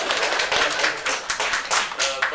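A small audience in a room on the riverboat Nikolai Chernyshevsky gives a short, sparse round of clapping with distinct hand claps, moderately near.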